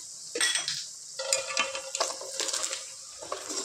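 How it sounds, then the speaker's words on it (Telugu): A spoon stirring masala and chili powder into frying chicken in a pan, with scraping and clinking strokes over a steady sizzle, close and moderately loud. "ఇది ఒక 1 minute కలుపుకుందాం ఫ్రెండ్స్"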